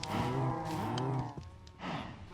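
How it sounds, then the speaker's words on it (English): A Minecraft cow moos loudly in a long, drawn-out call, followed by a second, shorter low moo, with no other sounds around it. "the cow's very noisy"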